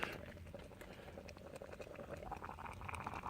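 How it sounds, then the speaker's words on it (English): Water bubbles and rumbles at a gentle boil close by on an alcohol camp stove, a continuous fizzing patter without any talk. "I hear it boiling."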